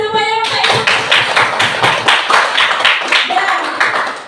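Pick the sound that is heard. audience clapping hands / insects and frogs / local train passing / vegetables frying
audience clapping hands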